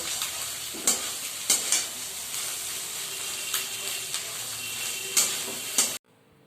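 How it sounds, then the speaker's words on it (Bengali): Eggs and spices fry in a pan for egg tadka, a continuous bright sizzle with hiss, punctuated by several sharp spoon scrapes and knocks against the pan, close up, without speech, stopping abruptly near the end. "সব কিছু মশলা দিয়ে ডিম দিয়ে এটাকে আমি ভালোভাবে একটু নাড়াচাড়া করে ভেজে নেব।"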